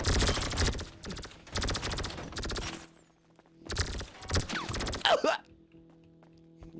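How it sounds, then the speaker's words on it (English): Gunfire rattles in a video game in several loud bursts with short gaps between them, and a voice speaks briefly near the end. "These are the slowest bullets I've ever seen!"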